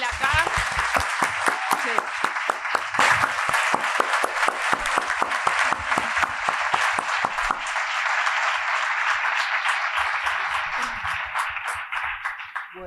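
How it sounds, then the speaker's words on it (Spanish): A book festival audience applauds at the close of a public conversation with an author, sustained clapping from many hands that thins out toward the end, with voices talking over it at times. "otra vez un fervoroso aplauso para él acá"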